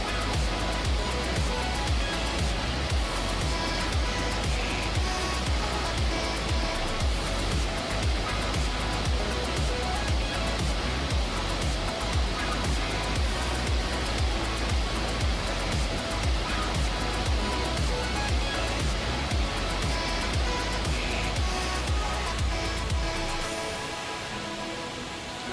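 Waterfalls and flowing water at Ricketts Glen State Park pour in a dense, constant roar that stays steady before easing slightly at the end.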